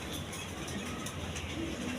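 Rajgolla pigeons coo softly in a pigeon farm. Low, murmuring calls sit under a steady background hiss over two seconds.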